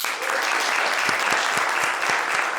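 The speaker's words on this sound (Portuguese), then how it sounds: "Uma salva de palmas para esse espírito maravilhoso que está aqui" Audience applause at a poetry evening (sarau), a steady wash of clapping from a seated crowd, fairly close and sustained throughout with no talk over it.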